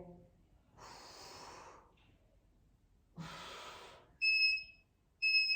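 A gym interval timer buzzer gives two short, sharp electronic beeps near the end, loud and close. Before them come two long breathy exhalations of heavy effort during a core workout.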